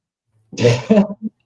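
A person nearby lets out a single sneeze, a quick breathy wind-up followed by a sharp voiced burst and a short trailing catch, in an otherwise quiet room.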